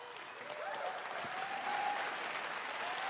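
Applause from the crowd at the 2019 Bethesda E3 showcase swells into steady sustained clapping, dense and fairly loud throughout, with a faint tone ringing underneath.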